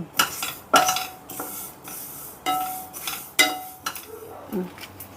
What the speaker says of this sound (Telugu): ఈ మెంతుల్ని ఈ మిరియాలు ఈ ఆవాల్ని దోరగా వేపుకుందాం